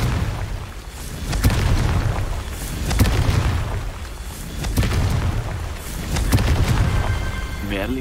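Confringo spells in Hogwarts Legacy set off repeated booming explosions, several heavy blasts rolling out in turn with crackling bursts.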